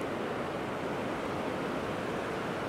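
Ocean waves wash onto a quiet sandy beach at Ao Manao in Prachuap Khiri Khan, Thailand, a steady, even rush of surf heard alone, with no voices.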